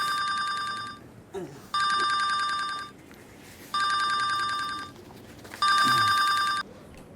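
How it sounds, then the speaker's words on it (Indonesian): A telephone rings in four separate bursts of electronic trilling, each about a second long, evenly spaced with quiet gaps between them. "Bang, telepon tuh."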